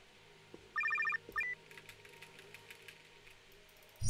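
Old-style telephone bell ringing in the video game Nightcry, a quick burst of rapid rings followed by a shorter second burst, fairly clear over quiet background.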